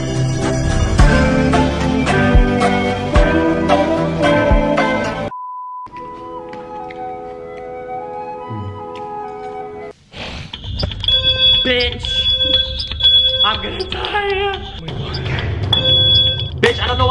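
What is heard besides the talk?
smoke detector fire alarm beeping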